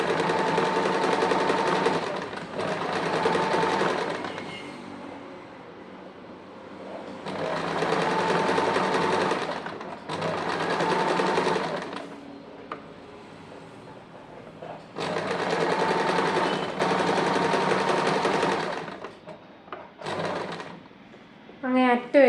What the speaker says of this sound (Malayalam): ആദ്യം സെൻറ്ററിൽ നിന്ന് തുടങ്ങിയിട്ട് ഒരു സൈഡിലോട്ട് സ്റ്റിച്ച് ചെയ്യണം.